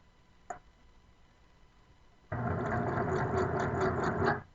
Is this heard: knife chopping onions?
no